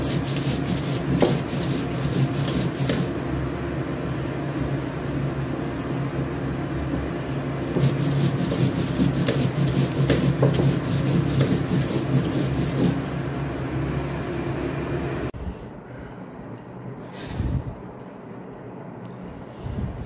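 Green chilies being ground into paste on a stone, a continuous rough rubbing and scraping that runs in rhythmic strokes, pauses briefly, resumes, then stops, leaving faint room sound.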